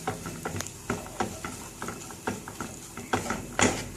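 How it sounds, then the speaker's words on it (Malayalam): A spoon stirs and mixes masala in a cooking pan, giving steady, repeated scraping and clacking strokes roughly every half second, close and fairly clear, with a faint sizzle beneath. "ഇനി നമുക്കൊന്ന് മിക്സ് ചെയ്യാം എല്ലാം കൂട്ടിയിട്ട്."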